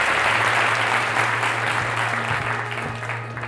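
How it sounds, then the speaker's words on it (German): An audience claps and cheers after a prize is dedicated at an award show. Thick, steady applause runs throughout and eases slightly toward the end, with a low hum underneath. "Also, Applaus! Bravo!"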